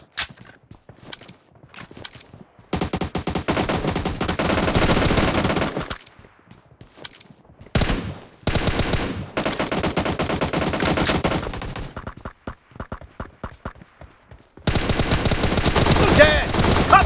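Gunfire from the PUBG video game comes in long, loud rapid-fire bursts separated by quieter gaps with scattered single shots and footstep-like taps.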